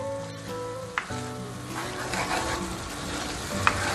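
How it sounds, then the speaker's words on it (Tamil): A thick chickpea masala gravy with yogurt sizzles in a pan while a utensil scrapes and stirs through it, with a couple of sharp clinks against the pan. "நம்ம இது கூட தயிரை சேர்த்தி மறுபடியும் கலந்து விட்டுருங்க."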